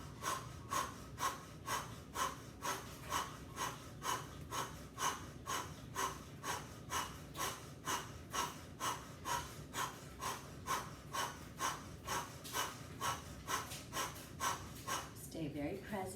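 Powerful rhythmic breathwork during meditation, with steady, forceful breaths repeating about once per second for the whole stretch, close and loud, with no talking.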